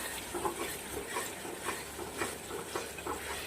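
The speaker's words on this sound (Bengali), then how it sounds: "এবারে যতক্ষণ মশলা থেকে তেল ছেড়ে না আসে ততক্ষণ মশলাটা কষতে হবে" Spice masala with large-cut onions cooking in oil for a katla fish onion curry, stirred in a steady rhythm of scraping strokes about twice a second over a soft background sizzle.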